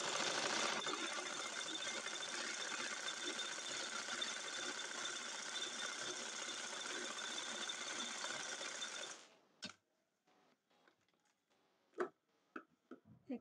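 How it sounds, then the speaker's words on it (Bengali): Sewing machine stitching a side seam on a two-colour Naira dress, running as a steady fast mechanical whir and clatter for about nine seconds, then stopping, followed by a few light clicks and handling taps. "এখন আমি এই সাইড দিয়ে একটা সেলাই দিয়ে নিব।"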